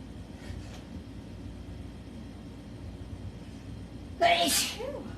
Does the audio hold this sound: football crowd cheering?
no